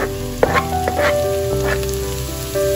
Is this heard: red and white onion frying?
yes